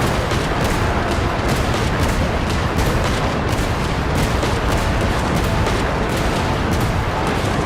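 Continuous, dense gunfire and booming explosions from a video game battle, loud and unbroken throughout, with rapid repeated shots layered over a constant roar of combat; the grenade launcher's blasts blend into the general barrage.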